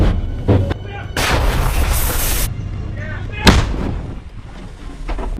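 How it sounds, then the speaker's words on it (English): Russian artillery fire booms in a series of heavy blasts, with a sustained roaring barrage through the first half and a sharp, loud report later, heard outdoors near the front line. "Russian artillery opens up."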